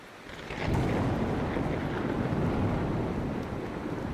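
Rumbling thunder and steady rain in the Mount & Blade II Bannerlord video game, a broad roar that swells sharply and holds loud and continuous, with no talking.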